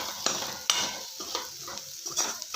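A spatula stirs cabbage palya in a pan, North Karnataka style, scraping in several distinct strokes over a steady low sizzle, close and fairly quiet, with no talking.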